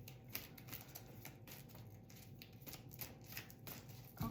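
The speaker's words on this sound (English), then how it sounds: "I shuffled all of these cards, like I did a really big shuffle" Deck of cards being shuffled in a long run of quick riffling flutters and soft slaps, close and quiet, with no talk.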